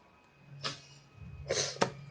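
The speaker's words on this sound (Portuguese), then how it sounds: "Opa, voltou os espirros." Sneezing bursts out nearby in short sharp breathy blasts, one single sneeze followed by a quick double, loud against a quiet room with a faint steady hum and no talking.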